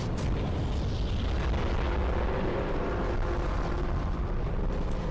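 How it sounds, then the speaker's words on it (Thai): A loud, continuous rumbling roar from an explosion sound effect in a Skibidi Toilet animation fills the whole five seconds without letting up. "ฉากระเบิดหรอ"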